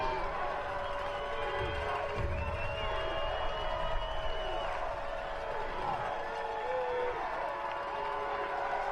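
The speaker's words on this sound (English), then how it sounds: "So now that Grandview crowd starts to come alive, trying to swing some momentum back in their favor." Grand View crowd at a NAIA national championship football game against Keiser, a dense stadium roar of cheering and shouting that stays loud and steady throughout, with a faint announcer-like voice mixed in.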